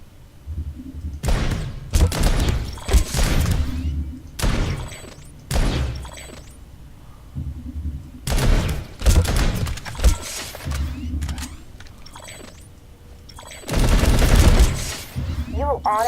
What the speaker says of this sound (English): Try shooting some targets while aiming down sights